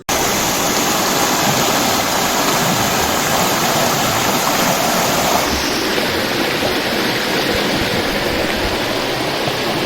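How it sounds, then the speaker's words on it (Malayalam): Clear stream water at Kuruva island in Wayanad splashes over rocks in a loud, unbroken rushing roar with no voices. "തെളിഞ്ഞ വെള്ളം പാറക്കെട്ടുകളിൽ തട്ടിത്തെറിച്ച് ഈണമിട്ട് ഒഴുകുന്ന ദൃശ്യം ഹൃദ്യം"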